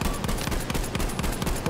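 Rapid semi-automatic rifle fire in Battlefield 5, a dense run of loud close shots cracking one after another with almost no pause for nearly two seconds.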